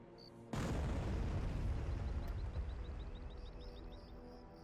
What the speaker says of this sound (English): I think we'll just drop an orbital bombardment on this corner